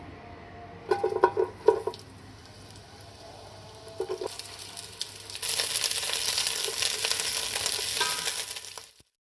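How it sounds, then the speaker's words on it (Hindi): Onions frying in three spoons of oil, first a few clanks and stirs, then a steady crackling sizzle that swells and holds loud and close before cutting off at the end. "अब अब हम इनको तल लेंगे। 3 चमचे हमने इसमें ऑयल डाला है।"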